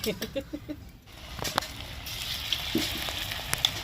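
Cauliflower pieces deep-frying in hot oil for Manchurian give off a steady close sizzle with scattered crackles and pops, a brief quieter dip partway through.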